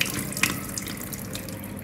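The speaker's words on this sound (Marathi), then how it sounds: "आता ह्याला थोडंसं एकदा मी स्वच्छ पाण्याने धुते" Small soybeans being rinsed in clean water, a steady running-water and splashing wash sound with a brief louder slosh near the start, close and continuous without speech.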